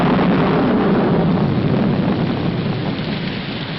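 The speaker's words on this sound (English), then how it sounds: "Put this top up. It's going to rain." Steady, loud rain pours down with a low rolling rumble of thunder underneath, a dense broadband wash that fades slightly toward the end in a 1947 film scene, with no voices.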